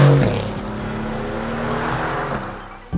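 A Mercedes-AMG GT R with a front-mounted engine of over 500 horsepower accelerates hard on a mountain road, its loud engine note climbing in pitch and sustaining close up before easing off, with no speech heard over it.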